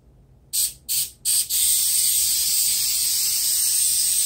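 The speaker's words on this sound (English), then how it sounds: "Give the skin a good spray." Three short, sharp hisses of coconut oil spray, then one long continuous spray onto salmon skin, close and fairly loud in a quiet kitchen.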